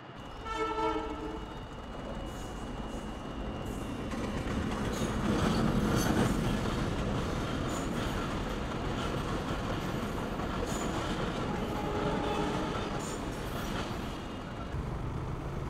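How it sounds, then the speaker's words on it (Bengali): At a railway signal in Dhaka, a train rolls past in a long, loud rumble with rhythmic wheel clatter and squeal, and short horn toots sound near the start and again near the end. "তার উপরে এই যে দেখেন আবার ট্রেনের সিগন্যাল।"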